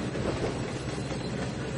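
A train runs in the Trainz 2019 railway simulator as an inbound freight awaits being cut up. It makes a steady, dense rail rumble with a faint clickety-clack of wheels, heard alone without talk.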